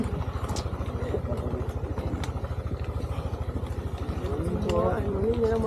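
A motorcycle engine chugs close by with a steady rapid thumping beat that swells slightly near the end, while people talk over it on the way to the Mount Pulag summit.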